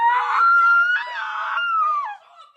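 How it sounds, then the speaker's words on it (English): People scream in a played clip of an incident in Michurinsk: loud, high-pitched, wavering cries come in two long bursts, then trail off into a fainter wail. "Oh, come on, stop that screaming junk."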